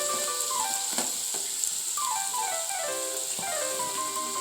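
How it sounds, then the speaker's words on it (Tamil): Chopped onions sauté in a pan for a chilli bread masala, giving a steady faint sizzle with scattered stirring clinks and scrapes, no voices. "ஆனியனும் சேர்த்து நல்லா வதக்கிக்கோங்க"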